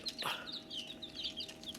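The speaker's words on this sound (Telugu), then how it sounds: "షెడ్ దగ్గర వదిలేసిన కోడి పిల్లలు కూడా ఇంకొక ట్వంటీ చిక్స్ ఏమో అక్కడ ఉన్నాయి" Eight-day-old country chicks near a poultry shed chirp in a rapid series of thin, high peeps, fairly faint and close, with a continuous low hum behind them.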